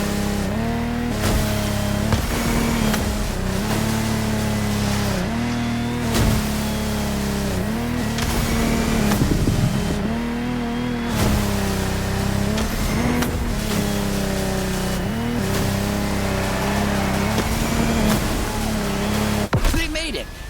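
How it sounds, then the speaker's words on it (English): Boat engine racing in The Crew Motorfest video game, a Lamborghini Technomar speedboat roaring steadily at high revs with pitch rising and falling through the run, loud and continuous, with occasional brief bursts and voices mixed in. "Contestants need to push their engines."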